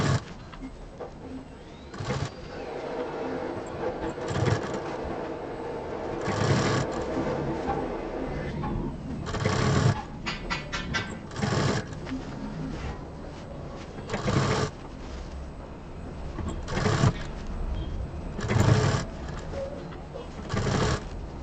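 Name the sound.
sewing machine stitching piping on a bag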